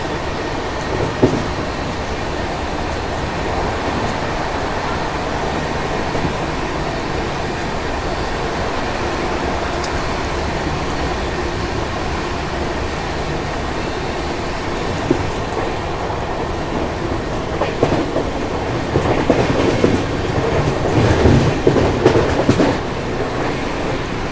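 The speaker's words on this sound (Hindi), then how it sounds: "बाकी अपनी ट्रेन स्किप कर रही है निम्बेड़ा रेलवे स्टेशन" The Rameshwaram–Firozpur Humsafar Express runs through Nimbahera railway station without stopping, a loud steady rumble of wheels on rails from on board, with clattering and rattling that build toward the end.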